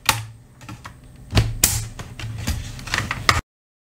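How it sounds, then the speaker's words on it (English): Plastic clips of a Dell Inspiron 14 laptop case snap and click as it is pried open, a series of sharp taps and a few louder pops, close up, ending abruptly. "Now I'll continue across, popping it up."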